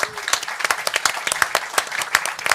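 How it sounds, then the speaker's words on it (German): Audience applause at a local heritage society's photo evening in Meppen, honoring a speaker: a small crowd claps with distinct, irregular hand claps at close range, steady throughout. "Ein Applaus auch für Wilhelm."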